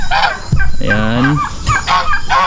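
Free-range backyard chickens and turkeys call in short honking, gobbling bursts, fairly close and loud, with someone talking over parts of it.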